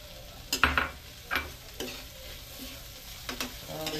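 Tomato and egg fry in a pan under a steady soft sizzle, broken by several sharp scraping stirs of a utensil against the pan at irregular intervals.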